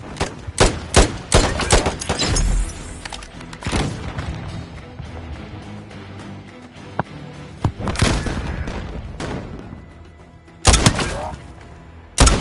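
Gunfire in the video game Call of Duty Modern Warfare, with loud close shots, rapid bursts and heavy booms at irregular intervals against a steady din of battle.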